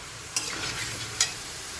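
Taro and spinach fry in a pan with a soft continuous sizzle, broken by two brief scraping clinks of a spatula stirring the greens.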